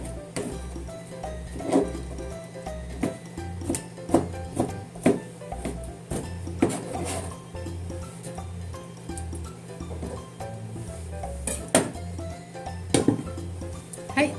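Knife cutting slices of ham on a cutting board in a kitchen, a series of irregular light taps and knocks spread over a quiet background.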